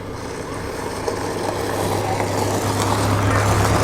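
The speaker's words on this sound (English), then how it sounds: "And there is the little bullnose Saab, the little two-stroke Saab." A small two-stroke bullnose Saab arrives at a classic car evening meet, its engine a steady, continuous drone under general outdoor noise.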